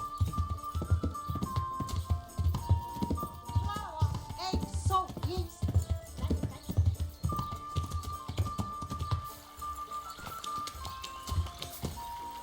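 Horse hooves clip-clop on the ground in the video game Kingdom Come: Deliverance. The steady, rhythmic trotting beats sit over soft in-game music, with no voices.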